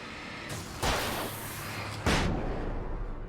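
A flashbang grenade goes off in the Alan Wake video game: two loud, sharp blasts land about a second apart, each trailing a hissing, rumbling decay over a steady background roar, with no voices.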